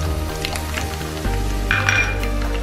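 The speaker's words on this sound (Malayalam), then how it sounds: "എണ്ണ നന്നായിട്ട് ചൂടായിട്ടുണ്ട്. കടുക്, മുളകിടാൻ പറ്റും." Mustard seeds and chilies dropped into hot oil for a tomato pickle, a constant close sizzle that swells louder midway with faint clinks of utensils, no talking.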